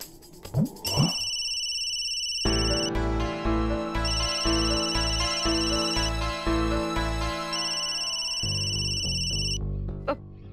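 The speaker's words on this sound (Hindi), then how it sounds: "मेरा फोन बज रहा है" An electronic ringtone plays a looping synthesized melody with a pulsing bass beat, loud and close, preceded by a few brief sounds.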